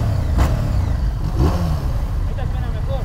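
A QJ Motor or CFMoto motorcycle engine and exhaust rumble steadily nearby during a street ride, with a brief rise in revs, while someone talks over the sound.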